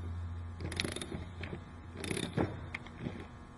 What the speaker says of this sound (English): Tighten snugly using a 3/4 inch wrench and socket.